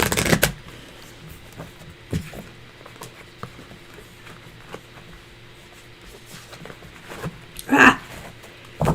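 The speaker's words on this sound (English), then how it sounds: "I can't shuffle today" Tarot cards being shuffled in short, soft riffling bursts, with scattered taps and handling noises between them, close by, no talk.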